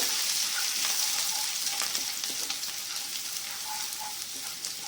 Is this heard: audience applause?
no